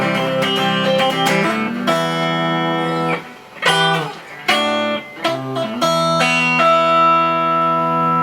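Rickenbacker 370/12 twelve-string electric guitar played on both pickups with volumes full up, bright jangling chords and ringing arpeggios with shimmering chorus-like doubling, briefly pausing between phrases.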